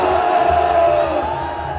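A large outdoor political rally crowd roars in a sustained, loud cheer with shouts and whoops, a dense wall of voices holding steady before easing slightly.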